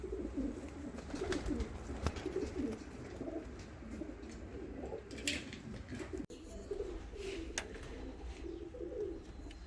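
Muff-footed costume pigeons coo in repeated low throaty bursts close by, several birds overlapping in an uneven rhythm, with occasional clicks and rustles around them.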